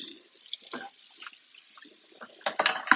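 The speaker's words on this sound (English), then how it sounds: "I'm going to get it into some hot water right now and let the faucet have it" Hot water from a kitchen faucet runs into a pan of leftover scrambled eggs, a faint, uneven splash and trickle with soft drips that grows louder and busier near the end.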